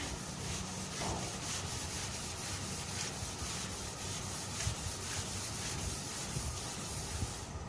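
Wet sanding of paint touch-ups on a 1966 F1 truck: a steady, close, continuous rubbing and scrubbing with even back-and-forth strokes and no talk.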